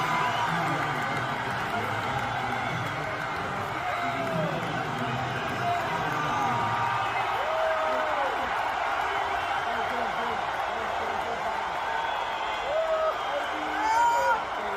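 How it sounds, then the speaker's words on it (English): A large football stadium crowd cheers and whoops as Donald Trump walks onto the field, a broad, distant roar of voices with rising shouts and whistles, babble and some possible jeering underneath. "Here is Donald Trump walking onto the field, and you definitely hear more cheering here."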